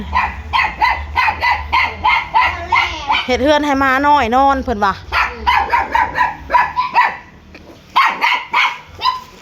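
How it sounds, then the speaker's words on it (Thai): A dog barks repeatedly in close, rhythmic bursts at a home in Thailand, with a brief whining, yelping stretch in the middle while someone talks over it. "โอ้ยเห่าจังเด้เนาะ"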